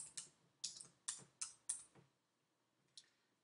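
Typing on a computer keyboard: five crisp key clicks in quick succession, a short pause, then one more click, close and isolated.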